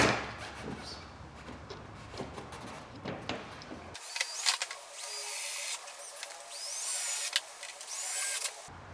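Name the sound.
power drill driving screws into cart body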